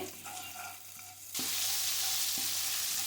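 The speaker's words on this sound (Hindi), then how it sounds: "डालने के बाद 1 मिनट तक हम इसको अच्छी तरह से भून लेंगे।" Ginger garlic paste fries in a pan with a loud, steady sizzle that jumps in intensity partway through, with occasional stirring knocks.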